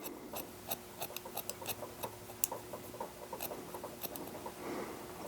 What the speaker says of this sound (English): Got the section, I'm going to point cut straight up.